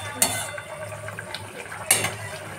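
A milk-based yogurt and mustard sauce for pomfret fish bubbles vigorously in a pan, a steady hissing simmer broken by two sharp clinks of a utensil against the cookware.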